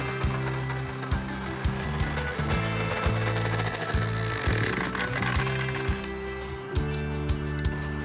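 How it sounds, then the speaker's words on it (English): A petrol power auger drills a 30-inch-deep post hole in the ground, its engine droning steadily and loud throughout, with a grinding low rumble that shifts in pitch as the bit bites into the soil, alone with no talk. "then continue digging with the auger"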